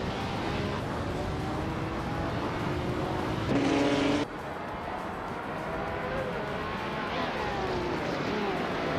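Race car engines roar continuously in a racing video game featuring a 1973 Porsche 917/30 Spyder, a loud, dense engine drone with shifting pitch and a brief higher whine partway through.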